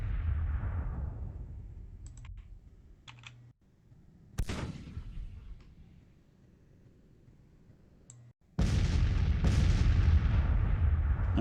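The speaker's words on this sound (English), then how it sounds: "Alright, somebody's guns are firing." Artillery guns fire in the Civil War strategy game Grand Tactician, with single booming reports spaced seconds apart. Each report is followed by a fading rumble, and the last blast is a louder, sustained roar.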